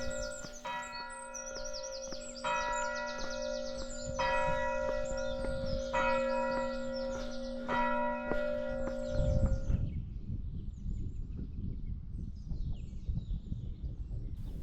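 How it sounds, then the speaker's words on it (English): A church bell rings loudly in repeated, evenly spaced strikes that ring on and overlap, then stops and leaves faint background noise and a few bird chirps. "I nearly did jump out of my skin when that church bell rung"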